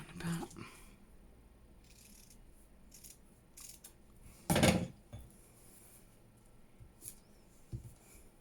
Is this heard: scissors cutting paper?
yes